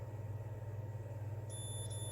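A multimeter set to continuity alarm mode beeping as its probes bridge two wires of a Thrustmaster T500RS paddle shifter kit, a thin steady tone starting late over a loud low electrical hum.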